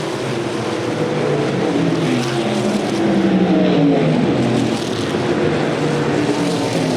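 USAC Silver Crown race cars at the Ted Horn 100 in DuQuoin, Illinois, roar around the track in a loud, continuous engine drone whose pitch sweeps up and down as the pack passes.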